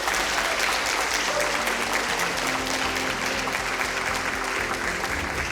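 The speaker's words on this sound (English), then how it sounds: "we really, really want to once again applaud you" Sustained audience applause at a matric awards gala fills the whole stretch, dense and steady clapping from a large crowd without pause.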